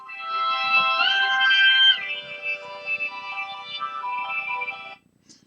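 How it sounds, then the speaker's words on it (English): A cell phone rings with a scam call, playing a loud, close, bright electronic melodic ringtone that runs steadily for about five seconds before cutting off abruptly. "And a telemarketer, one of them scam calls on my cell phone."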